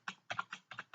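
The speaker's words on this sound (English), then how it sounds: "So start typing from here." Typing on a computer keyboard: a quick run of about seven soft, close key clicks in an uneven rhythm, faint and alone with no voice.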